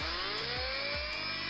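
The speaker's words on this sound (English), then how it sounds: "at this point we drill the posts" Power drill boring into the posts of a diecast model car with a small 1.7 mm bit, a steady high motor whine with a few brief dips in pitch as the bit bites into the metal.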